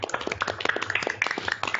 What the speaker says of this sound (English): Let's have another round of applause for Taqlid.